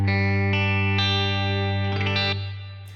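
Clean electric guitar through a Fender amp and a Jackson Audio Broken Arrow overdrive pedal, set with bright pristine highs and a clear low end; sustained ringing chords struck a few times, close and loud, fading at the end.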